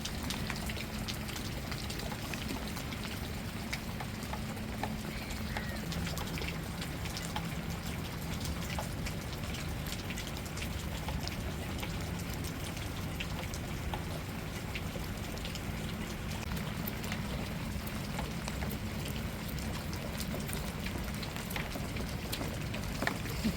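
Steady rain falls outdoors, a constant soft hiss and patter with scattered drops, even and moderately faint throughout with no talk.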